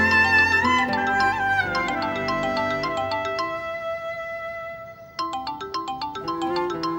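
A mobile phone rings with a melodic electronic ringtone, bright repeating tones that pause briefly and resume, clear and close with no talk over it.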